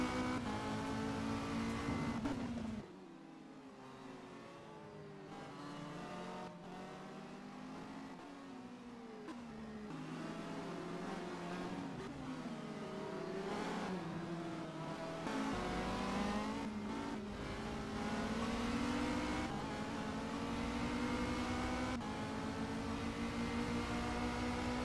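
A race car's engine in a racing video game screams through the gears, pitch climbing and dropping with each shift. It is loud and continuous, with a brief lull near the start before it builds again.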